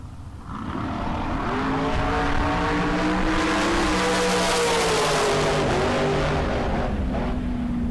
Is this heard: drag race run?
yes